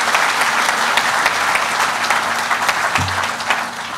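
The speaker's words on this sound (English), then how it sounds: "let's give the city of Durant a big round of applause for making that happen" Loud, sustained applause from an audience at a campus headquarters grand opening ceremony, thick crowd clapping filling the whole stretch with a low hum briefly appearing near the end.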